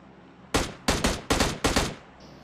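Gunfire in the PUBG video game: four sharp, loud shots in quick succession, evenly spaced, with nothing else heard around them.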